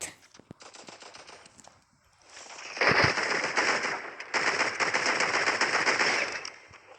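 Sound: automatic gun firing at enemies in a video game

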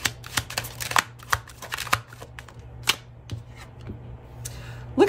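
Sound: tarot cards being shuffled and drawn

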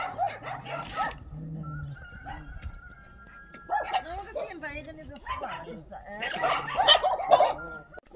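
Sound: dogs barking, border collie

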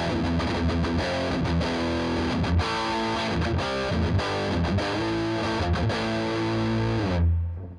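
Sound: electric guitar through Paul Reed Smith amp with drive maxed

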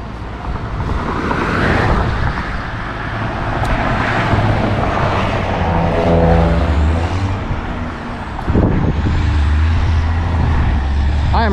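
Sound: car driving on Highway 55

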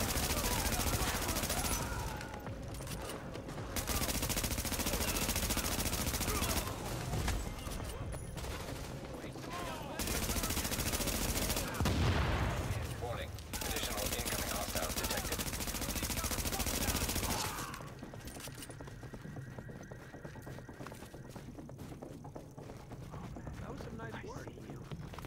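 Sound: M60 machine gun fire in the video game The Division

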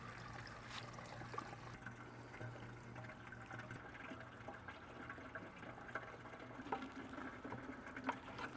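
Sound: pouring nutrient solution into hydroponic system

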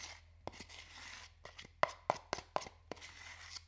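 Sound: mixing homemade chalk paint

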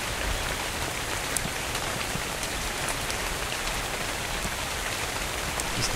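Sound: rain in the video game Dark and Light

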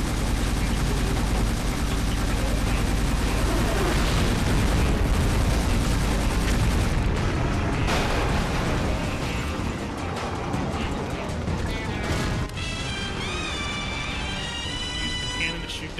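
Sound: barrels exploding and gunfire in video game 007 Agent Under Fire

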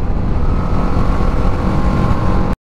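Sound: motorcycle riding on a road

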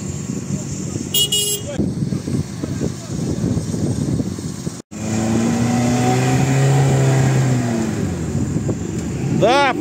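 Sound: car engine revving, wheels spinning in mud

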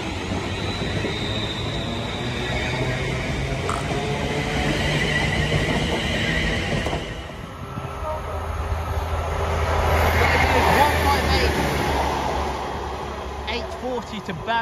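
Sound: train passing through Sandwell & Dudley railway station

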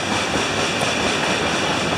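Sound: passing train

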